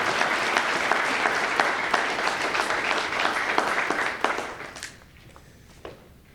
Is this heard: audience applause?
yes